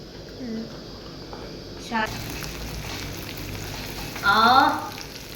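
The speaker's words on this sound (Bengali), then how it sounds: "সর্ষের তেলে মাংস রান্না হবে" Chicken fries in mustard oil for an office-made spicy kosha, a steady sizzle with a brief louder surge of spitting near the end, close by.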